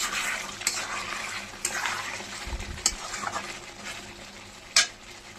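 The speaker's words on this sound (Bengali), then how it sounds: "মাংসটা কষিয়ে নিয়েছি। একটু নাড়িয়ে চাড়িয়ে নিচ্ছি।" Browned chicken being stirred in hot oil in a pan for chicken maharani, with a steady close sizzle and scraping spoon strokes, plus a few sharp clinks of utensil against the pan.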